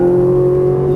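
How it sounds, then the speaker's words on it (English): A Ferrari 458 Italia accelerates out of a turn on a Las Vegas racetrack. Its engine holds a loud, steady, near tone, then begins to climb in pitch right at the end. "Now accelerate to the right side."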